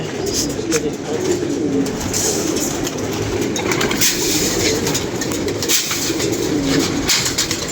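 Domestic pigeons coo in a low, continuous murmur from a rooftop loft, with bird calls and faint background activity running throughout at a steady level.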